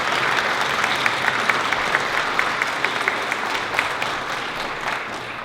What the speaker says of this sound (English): So if you join me in a round of applause for Mark.